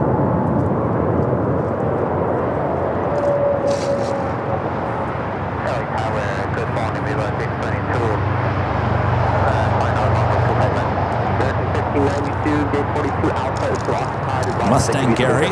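A jet airliner takes off from the south side at Los Angeles LAX airport, a steady engine rumble running through the whole stretch under intermittent talk, with faint traffic noise mixed in.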